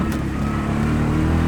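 A car rumbles steadily along the roughest road through Sri Lankan tea plantation fields, a loud, continuous low engine and road drone heard from inside the vehicle.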